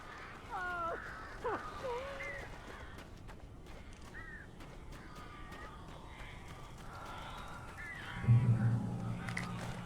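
Crows cawing in Alan Wake Remastered, a few harsh calls clustered early then sparser caws later, over a dark ambient game soundscape with a low rumbling swell near the end.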